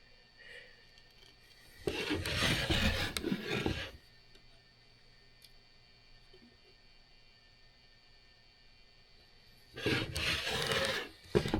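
A hand plane shaves wood in two loud rasping strokes, each lasting about two seconds with quiet gaps between them, and nobody speaks.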